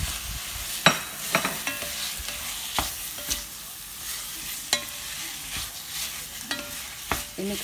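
Minced pork and onion fry in a pan with a steady sizzle, broken by sharp scrapes and clinks as a utensil stirs the meat against the pan.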